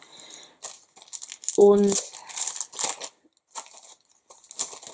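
A handmade Halloween greeting card is handled inside its plastic sleeve, giving close, brief crinkling and rustling bursts, with a short spoken word at the start.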